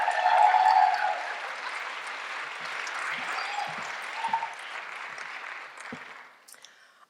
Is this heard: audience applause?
yes